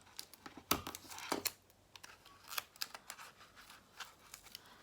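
Tape is pulled, torn and crinkled while building a paper horse sculpture in an art lesson, giving a series of sharp ripping and crumpling bursts at an irregular rhythm, close and fairly faint.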